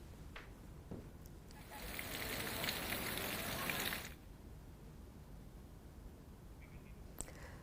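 Steady hiss of heavy rain, swelling into a louder downpour for a couple of seconds before easing back to a constant wash.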